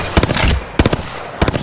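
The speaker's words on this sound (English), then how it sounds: "Firing a smart bullet." The Smart Bullet tactical ability fires in Apex Legends, giving three sharp, loud bursts of rapid crackling shots spaced about half a second apart, each quickly fading into a brief electronic tail.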